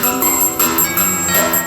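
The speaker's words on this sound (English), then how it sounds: "They would actually ring the bell before they went in and make sure no one was home." A doorbell at a house's front door rings in repeated bright chimes, the tones struck several times in a quick, regular pattern and sounding close and clear, with no voices present.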